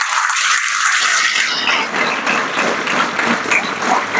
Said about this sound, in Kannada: ಇದ್ರ ಮೇಲೆ ನೀವು ಜೋರಾಗಿ ಚಪ್ಪಾಳೆ ಹೊಡಿಬೋದು